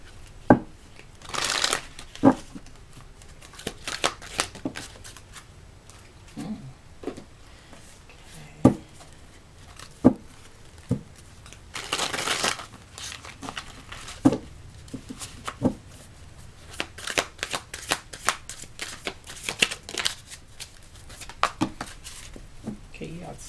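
Tarot cards are shuffled and riffled in a quiet room, giving repeated crisp flutters and short slaps spread across the clip, with soft handling noise and faint speech in the gaps.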